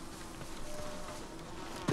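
Bees buzz in the Ghost of Tsushima video game, a steady insect drone holding throughout at moderate level, with a brief louder thump near the end.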